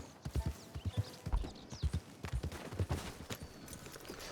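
Horse hooves clip-clop steadily in Red Dead Redemption 2, a galloping rhythm of close, distinct beats running throughout with no voices over it.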